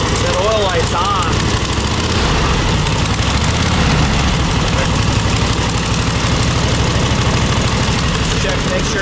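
An old, neglected Harley motorcycle engine idles loudly and steadily up close, a rough continuous rumble with uneven pulsing, while someone talks over it.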